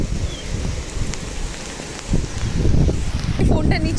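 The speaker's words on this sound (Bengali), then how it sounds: "এই যে বৃষ্টি পড়তেছে।" Rain falling on a rooftop in wet weather, a soft continuous patter with scattered louder drops and rustling, steady over a few seconds.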